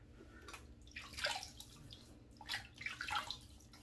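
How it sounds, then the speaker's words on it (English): Water splashed and patted onto a face before shaving with a Parker adjustable razor, two bursts of close wet splashing and dripping with short pauses between, no talk. "let me just dampen the face because I've already washed it"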